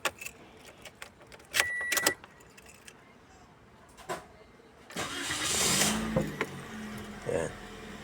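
A Toyota Vios Gen 4.5 engine is started with a key: a jangle of keys and clicks, then a short starter crank and the engine catching into a steady idle hum, with people talking nearby.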